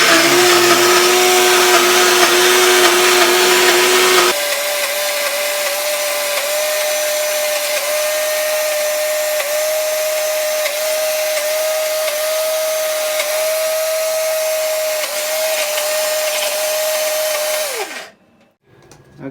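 An electric mixer grinder grinds lentils for paripu vada, giving a loud, steady motor whine with hiss that shifts pitch slightly early on, runs continuously, then cuts off near the end.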